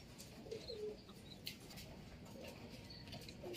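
A racing pigeon at a loft coos softly in a few short, low phrases against a steady outdoor background hiss, faint and unaccompanied by talk.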